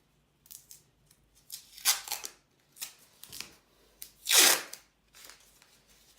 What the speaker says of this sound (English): when you turn the masking tape around the outer barrel